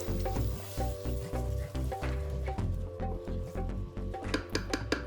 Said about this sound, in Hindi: आपके मसाले भी भुन रहे हैं और साथ में दही का कच्चापन भी मर रहा है